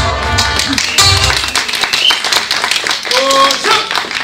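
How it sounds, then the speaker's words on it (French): Spectators at a team match clap to cheer on their side, a dense patter of hand claps mixed with crowd chatter and raised voices throughout. "Profitez-en pour applaudir votre équipe favorite, tous les deux."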